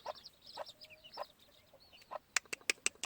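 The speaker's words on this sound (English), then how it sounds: "Here's a hen that's got 10 blues, 10 little blue biddies." Gamefowl hen with ten small blue chicks at a farm gives soft clucks over a chorus of high chick peeps, with sharper, louder calls close by near the end.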